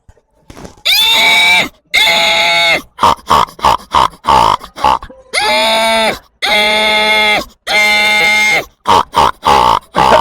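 A man imitates a pig, alternating rapid snorting grunts with long, drawn-out squealing grunts, loud and close, repeated over several cycles.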